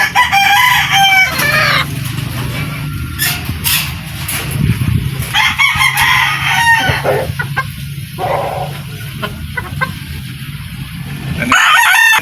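Sweater gamefowl roosters crow repeatedly, several loud, near cock-a-doodle-doo calls overlapping with clucking and farmyard background noise throughout.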